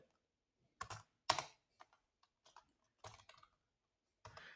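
Python code is typed on a computer keyboard as a few close, crisp bursts of clicking keystrokes with quiet gaps between them, in an otherwise silent room.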